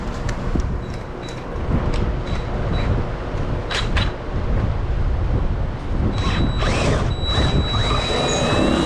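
A drill boring a hole, stepped up to a half-inch bit, into a part for an upper canvas door on a General XP side-by-side: a continuous grinding whir with a few metallic squeaks and clicks, close and loud.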